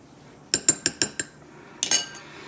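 A spoon clinks against a bowl while combining a yeast mixture for loukoumades, five quick metallic taps followed by a brief scraping clatter, close and clear with no talking.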